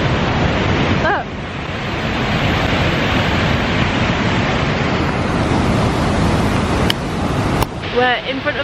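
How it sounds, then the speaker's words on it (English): High Force waterfall roars in winter with a loud, continuous rushing wash of water that fills the scene, broken near the end by a few brief clicks and buffets of wind on the microphone. "We're in front of the waterfall now"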